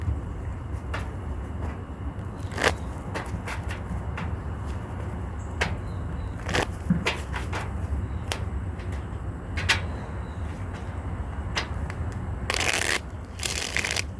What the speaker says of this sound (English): I'm gonna just shuffle today